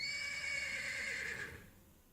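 Horse in a video game gives a bright, loud whinny lasting about a second and a half, then fades away, with faint hoof clops underneath and no talking.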